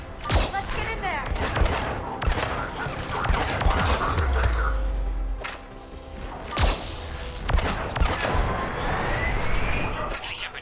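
A checkpoint firefight in Mass Effect 3 fills the scene with dense bursts of rapid gunfire and heavy thuds that stay loud nearly throughout, while voices talk over the shooting.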